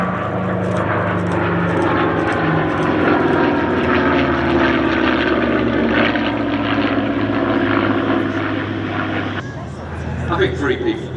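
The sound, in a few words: propeller warplanes flying at an airshow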